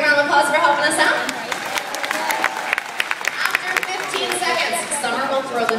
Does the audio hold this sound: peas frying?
no